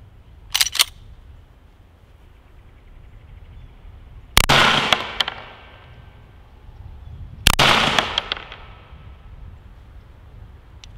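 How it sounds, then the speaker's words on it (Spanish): Two loud sharp shots from a Thunder 9 Pro pistol ring out outdoors, about three seconds apart, each with a brief echoing tail, after a quieter metallic click or pop at the start. "gracias a mi amigo Domingo, ¿ok?, que nos obsequió la Thunder 9 Pro. Así que voy a hacer dos disparos."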